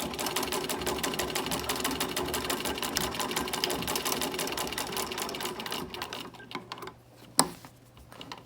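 A Singer 15-88 sewing machine stitches through two layers of heavyweight home decor fabric with a fast, steady mechanical clatter, close and even, before it slows and stops with a sharp click near the end.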